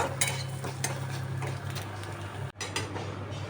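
Rice frying in hot oil in a kadai, stirred steadily with a spatula, giving a continuous close scraping and clattering hiss over a low hum, with a brief break in the middle.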